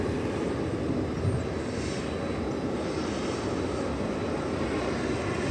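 An MD airliner sits at DFW Airport with its jet engines running. They give a steady, unbroken roar that holds at an even level throughout, with no voices.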